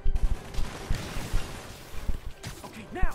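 Rapid machine gun fire in the Marvel's Spider-Man video game, a burst of repeated sharp shots in an uneven rhythm with impacts and a brief swooshing sound near the end, with a voice heard faintly at moments.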